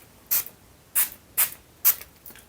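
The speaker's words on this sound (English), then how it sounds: "So I'm just going to spray my face with it." Four short hissing bursts of primer spray misted onto a face, each about a third of a second long and evenly spaced, close and fairly loud, with a fifth fainter puff at the end.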